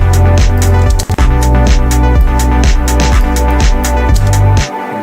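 A retro synth arpeggiator runs notes in a steady, rapid repeating pattern with sustained bass tones beneath, loud and continuous, with a brief dropout near the middle before fading at the end.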